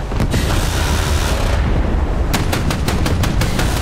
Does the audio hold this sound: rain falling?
no